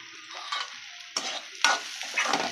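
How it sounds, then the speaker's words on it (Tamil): Sliced large onions and green chillies frying in a pan for egg curry, a bright crackling sizzle broken by several sharp spoon scrapes and stirs, loud and close with no voices. "மூணு வெங்காயம் பெரிய வெங்காயம் கட் பண்ணி வச்சுருக்கேன் நல்லா வதங்கட்டும்"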